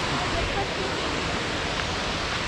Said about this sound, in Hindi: ब्यूटीफुल वाटरफॉल है